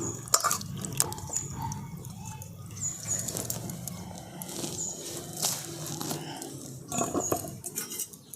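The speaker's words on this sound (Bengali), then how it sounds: "এরপর আবার একবার জল দিয়ে ধুয়ে নিচ্ছি।" Peeled radishes being rinsed under running water, with steady splashing and dripping that patters close and fairly loud throughout, with no talking.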